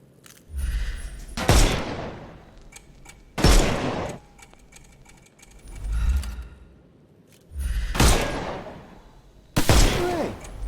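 Bursts of game gunfire in a Sherlock Holmes adventure, loud rapid volleys shooting the armour off enemies, arriving in five separate clusters with brief gaps and low thuds between them, no talking.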